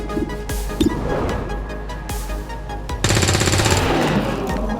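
Video game gunfire in XCOM 2 War of the Chosen, sharp bursts and single shots at first, then a dense loud burst of automatic fire for the last two seconds.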